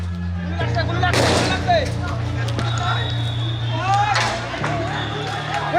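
Sharp bursts of gunfire ring out amid a crowd's shouting and babble during street protest footage in a news report, the shots loud and close against overlapping voices.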